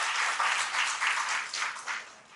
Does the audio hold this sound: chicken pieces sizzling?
no